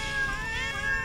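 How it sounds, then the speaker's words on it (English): A cat in the video game Final Cut: Death on Silver Screen gives a single drawn-out, clear meow that wavers in pitch, close and alone without speech. "I like this cat. It meows so nicely."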